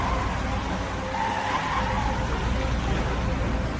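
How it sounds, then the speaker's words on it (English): Cars and trucks skid through wet paint spilled across a city street, a continuous rushing hiss of sliding tires with a brief higher screech in the middle, steady and fairly loud throughout. "Cars and trucks slid in the wet paint."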